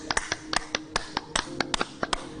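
A run of forceful hand claps struck hard as a therapeutic exercise, about fifteen crisp, close strikes in a quick uneven rhythm with no speech.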